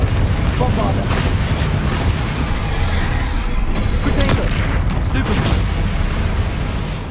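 Spell explosions from Confringo and Bombarda in the video game Hogwarts Legacy, a dense, continuous barrage of loud booms and blasts with rumbling low end, sustained at high level throughout.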